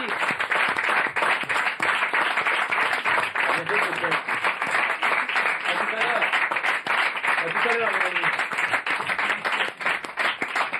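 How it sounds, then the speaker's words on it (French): A theatre or comedy-show audience breaks into loud, sustained applause with rhythmic clapping, continuing for about ten seconds while voices speak and laugh over it. "Allez, on vous applaudit."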